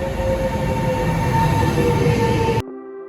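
A train in Palermo, Italy rumbles steadily along the tracks with a low mechanical hum and faint metallic whine, then cuts off abruptly near the end.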